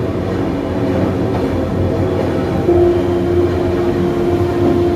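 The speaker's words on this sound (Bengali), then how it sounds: "এই আমরা এখন যে ট্রেনটি যাচ্ছি যে মূর্তি ব্রিজের উপর থেকে" A train crosses the Murti river bridge in North Bengal, producing a continuous, fairly loud rolling rumble with a steady low drone and no talking.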